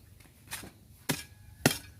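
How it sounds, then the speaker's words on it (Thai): A hoe strikes hard, damp soil three times in sharp, separate thuds with quiet pauses between, while digging earth to build a clay stove. "ต้องใช้จอบเป็นตัวช่วย"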